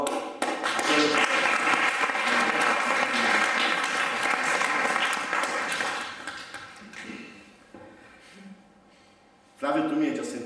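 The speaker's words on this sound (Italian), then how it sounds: "E quindi un applauso a tutti." Applause fills the hall at a provincial political congress, loud dense clapping that holds for several seconds and then fades under a man's speech, before a short fresh burst of clapping returns at the end.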